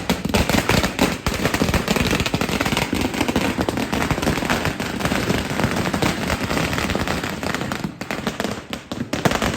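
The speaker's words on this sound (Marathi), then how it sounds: "इकडं फटाके आपण लावून ठेवलेले आहेत" Firecrackers burst in a dense, continuous crackling barrage at close range to welcome a newly bought Toyota Fortuner Legender car home, loud and relentless with no speech.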